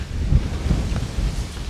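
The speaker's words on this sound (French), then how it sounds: "le vent il m'a mis toutes les graines par terre" Gusty wind blowing across an outdoor vegetable garden, buffeting the microphone with a loud low rumble that swells and eases in short pulses.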